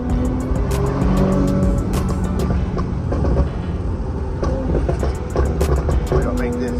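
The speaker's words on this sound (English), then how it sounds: "we are on my beautiful daily Q60. Go ahead and step on it, Brandon." An Infiniti Q60 accelerates hard, its engine roaring loud and close as it revs up through the gears, with a steady, dense drone and brief gaps at shifts.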